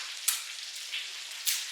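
Chicken for a Chick-fil-A-style sandwich fries in a pan with a steady, close sizzling hiss and a few sharper pops.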